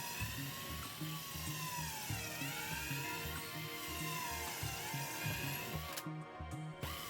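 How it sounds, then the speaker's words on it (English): A power drill whines continuously as it bores through two stacked pieces of MDF for several seconds, its pitch dipping slightly under load before easing off near the end. "I'm just going to drill out 2 holes for each brace all the way through both pieces of MDF"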